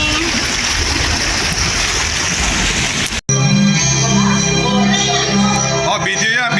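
Water splashing and churning in a resort swimming pool for about three seconds, then an abrupt cut to a different sound with a tonal, music-like hum and voices in the background.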